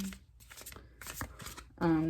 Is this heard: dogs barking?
no